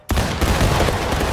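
A gunfire volley in a video game battle at the Pry House, a sudden loud crash of many rifles firing at once, followed by a dense, rumbling roll of shots and echo that fills the short moment, with no voices.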